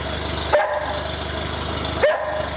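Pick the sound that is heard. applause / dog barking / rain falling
dog barking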